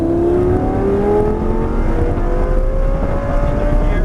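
Lamborghini engine at full throttle exiting a turn on an airport circuit, a loud close roar with rising pitch as it accelerates steadily through the gear.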